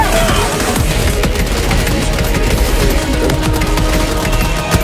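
Gunfire in the video game Helldivers 2, a loud, dense stream of rapid shots and impacts layered over a heavy low rumble, continuous and close for the whole stretch.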